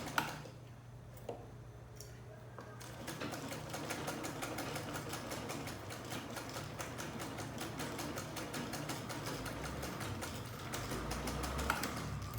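A sewing machine runs steadily, stitching the seams of a linen blouse with a fast, even mechanical clatter that continues throughout, close and moderately loud.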